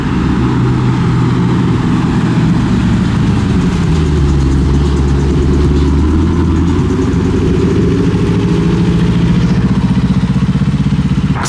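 Car engine idling at a secret underground night car meet in Houston as a modified car rolls back in, a steady low rumble that stays loud and close throughout with slight shifts in pitch and no talking.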